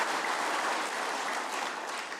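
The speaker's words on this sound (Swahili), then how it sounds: "Mjipigie makofi tena." Crowd applause at a gathering of Tharaka Nithi County leaders in Kenya, a steady, moderately distant patter of many hands clapping that holds evenly for a couple of seconds with no speech over it.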